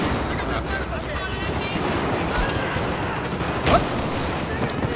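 Video game gunfire roars as a dense, continuous wall of shots and explosions, loud and unbroken throughout, with a brief spoken exclamation over it.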